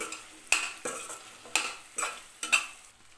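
Fried paneer is stirred through a pepper masala in a pan, with a soft sizzle under repeated utensil scrapes and clacks against the pan, close and irregular.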